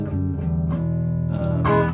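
Electric guitar playing a short phrase of sustained chords with a gritty, saturated tone, steady and close, no voices.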